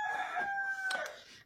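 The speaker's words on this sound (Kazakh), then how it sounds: "Міне мен тауықтарым." A rooster crows once inside a chicken coop, a clear, fairly close call lasting about a second and a half with no talking.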